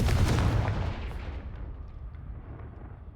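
A single heavy Confringo fire blast from Hogwarts Legacy erupts in a loud, low boom with a crackling tail that fades gradually over the next few seconds, with no voices.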